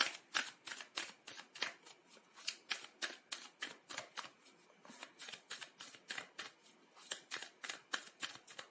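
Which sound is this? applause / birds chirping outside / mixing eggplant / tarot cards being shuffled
tarot cards being shuffled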